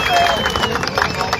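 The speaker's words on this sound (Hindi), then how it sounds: "जोरदार तालियां इन बहन के लिए" Crowd at a gathering applauds a student speaker, a short burst of loud, close clapping mixed with crowd noise and voices talking throughout.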